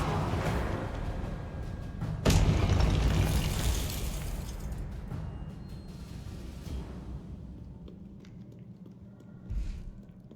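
A fiery spell blast bursts out in Hogwarts Legacy, a sharp whooshing explosion that swells and then fades into a lingering rumble, followed by a smaller pop near the end.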